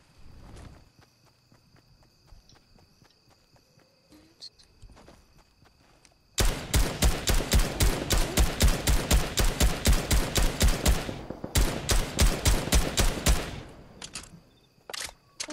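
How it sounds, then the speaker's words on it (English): Rapid automatic gunfire in Fortnite, a loud sustained burst of evenly spaced shots lasting about seven seconds with a short break, after quieter footsteps and faint clicks. "Who's shooting in the air? What are you shooting at?"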